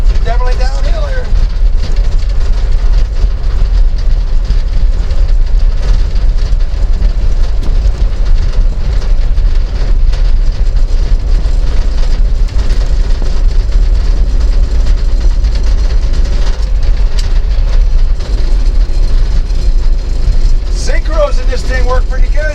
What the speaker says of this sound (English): Synchros in this thing work pretty good in this tranny.